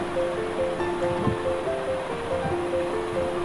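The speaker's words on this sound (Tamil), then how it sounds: "இப்போ கொஞ்சமாக கருவேப்பிலை சேர்த்துக்கிறேன்." Curry leaves fry in hot oil for Tamil urundai kulambu, a steady sizzling crackle with a few brief pops, close and continuous, with no talking.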